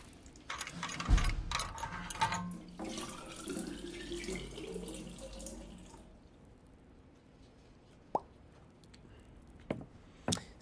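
Liquid poured into a machine in a video game, a splashing, tap-like water flow running steadily for several seconds before easing off, followed by a few sharp clicks.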